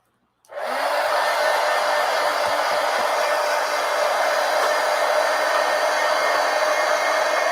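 A hair dryer switches on and blows a steady, loud stream of air, running continuously close to the microphone without a break.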